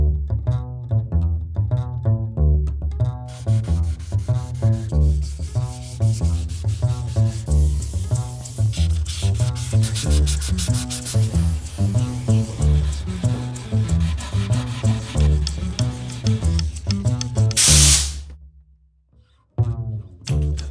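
Guitar finish being hand-sanded with 800-grit sandpaper: repeated rhythmic rubbing strokes, close and fairly loud, running steadily before a brief pause near the end.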